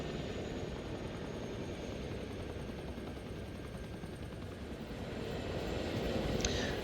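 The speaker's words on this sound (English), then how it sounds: "they'll hover and they'll wait until your transport helicopter spools up" A transport helicopter in the video game Arma 3 hovers with a steady, dense rotor thrum that holds constant, swelling slightly louder near the end, with no voices.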